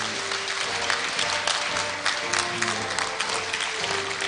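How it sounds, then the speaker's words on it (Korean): A graduation ceremony audience at Korea University breaks into congratulatory applause, a dense, steady clapping from a large crowd that runs evenly throughout with no speech over it. "네, 여러분 축하 박수 부탁드립니다."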